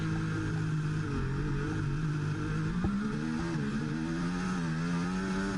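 High-pitched F1 race car engine in the F1 24 video game holding a sustained whine with gear changes and rising revs, a continuous close-up drone with no voices.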